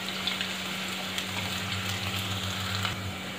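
Chopped onions frying in hot oil until golden brown for a paneer masala, a steady soft crackling sizzle with faint pops, close and unbroken, no one talking.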